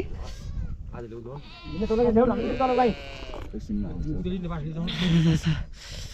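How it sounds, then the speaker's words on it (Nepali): Sheep bleat repeatedly nearby on a mountain trail on the way to Badimalika, with several wavering calls overlapping and people talking among them. "भेडा नि पुरै वनमा गइसकेछ है"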